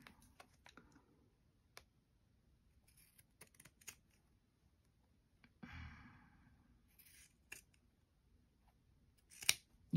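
A few quiet snips of scissors cutting, with sparse clicks and small handling noises in a mostly hushed room.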